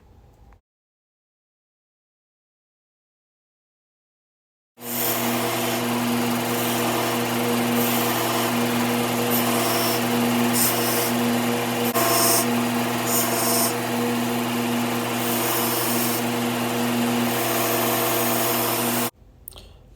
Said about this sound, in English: there's no magic when it comes to grinding away the bulk of the material on the handle